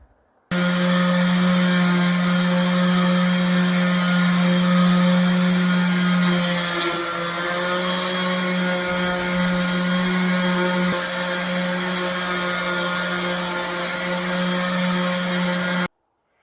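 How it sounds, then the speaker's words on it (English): Random orbit sander running steadily on 80 grit against a hand-carved handle for a vintage axe, a close, loud continuous whir with a buzzing hum and a brief dip in pitch midway, no voices. "I sanded on 80 grit, and I don't have any pads for my random orbit sander"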